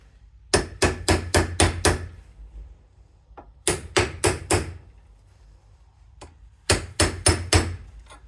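A wheel bearing is hammered into the rear hub of a Peugeot Boxer camper van. Sharp, close metallic blows come in three quick bursts of four to six strikes each, with a few lighter taps in the pauses.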